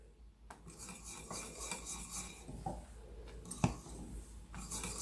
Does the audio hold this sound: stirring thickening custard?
yes